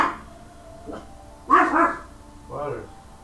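An elderly dog gives a couple of close, sharp barks, a louder one followed by a shorter one, with voices around it.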